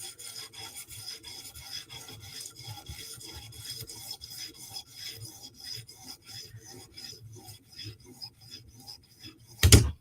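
Knife blade (Sebenza and Yojimbo folders) stroked across a high-grit sharpening stone for a mirror edge, a steady run of close, rhythmic scraping rasps, ending in a brief louder knock.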